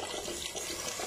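Water poured steadily into a pot of sautéed chicken for sopas, a brief continuous splashing gush.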